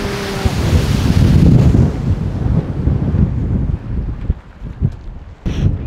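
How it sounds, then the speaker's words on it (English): A geyser erupting in Iceland gives a loud, broad rushing roar that swells over the first couple of seconds and then tapers off unevenly, with strong wind buffeting the microphone throughout. "I've never seen a geyser before."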